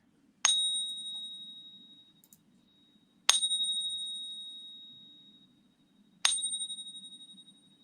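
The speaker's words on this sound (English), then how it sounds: "the lines went up after you tap the coin there" A silver coin struck three times, each strike ringing out bright and clear and slowly fading before the next, with faint low hum beneath.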